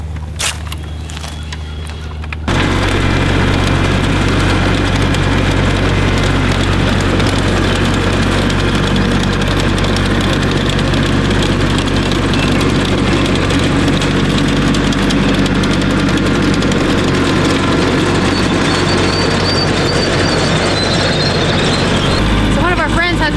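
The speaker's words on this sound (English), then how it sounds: "one of our friends has a PTO-driven tiller on the back of his tractor, and he's come over to do our garden" A tractor engine drives a PTO-powered tiller working a garden plot, a steady loud mechanical drone with a rumbling low end that starts abruptly after a quiet moment and runs continuously.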